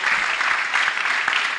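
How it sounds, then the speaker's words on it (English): A meeting audience applauds in a dense, steady wash of clapping that lasts the whole short moment, close and loud with no voices over it. "Can we clap for him again?"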